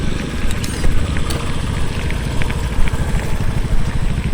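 A Honda ADV scooter engine runs steadily nearby with a rough, buzzing drone, loud and continuous, with no talking.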